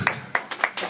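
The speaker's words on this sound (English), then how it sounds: "you're applauding yourself here for being here" Convention crowd at a horror fan show claps in a few bright, separate bursts, with clapping swelling and fading across a single second at moderate distance.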